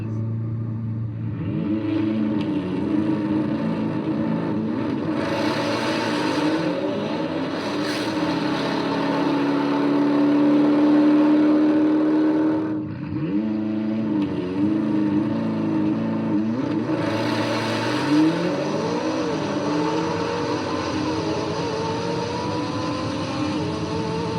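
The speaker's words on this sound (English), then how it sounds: "I'm going to use launch control, and we'll see what the difference is and what the power of launch control on this McLaren really does." McLaren car accelerating hard off the line with launch control during a race, engine note climbing through gears in repeated rising sweeps, loud and continuous for the full stretch with brief dips at shifts.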